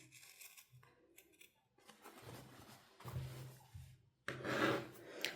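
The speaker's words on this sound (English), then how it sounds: "I'm going to cut along this line that I've drawn" Quiet crisp snips and rustling as scissors cut through several layers of fabric for a bag, in short irregular bursts close by.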